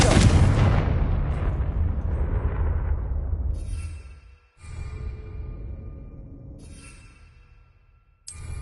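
Confringo fire spell explosion from Hogwarts Legacy, a loud close booming blast at the start that decays over several seconds, followed by quieter rumbling and a second burst near the end.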